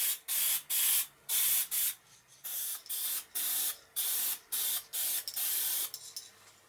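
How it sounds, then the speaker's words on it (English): Spray varnish from an aerosol can, a series of short, sharp hissing bursts separated by brief pauses, close and loud. "I apply some varnish"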